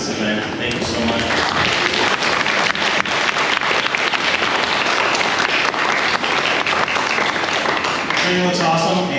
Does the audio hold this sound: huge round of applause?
yes